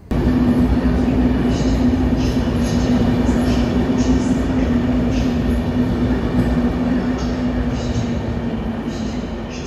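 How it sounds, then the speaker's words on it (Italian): A Polish Intercity train bound for Kraków produces a loud, continuous rumble and roar of rolling stock, steady throughout with a faint high whine, and no voices. "Questo è un Intercity."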